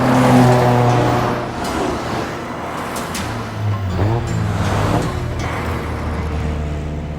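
Four-wheel-drive Mitsubishi Lancer Evolution race cars in an anime street race, heard as loud, steady engine roar with rising and falling revs as the cars accelerate close by, continuous throughout with no talk over it.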